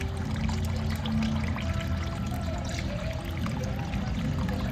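Water runs steadily from a tap, a continuous close splashing pour with a low rumbling body and no pauses or voices.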